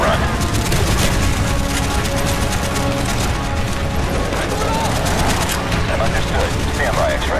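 Dense game combat from Call of Duty: Black Ops fills the scene with steady, loud gunfire and crashing explosions from a strafing run, with people talking over the chaos.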